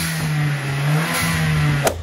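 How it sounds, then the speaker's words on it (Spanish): A Mercedes-AMG GL engine hums steadily at a low idle-like drone for nearly two seconds, then a short sharp burst of air, like a turbo blow-off hiss, cuts in near the end, loud and close. "vais a escuchar cómo sopla el turbo del coche ahora"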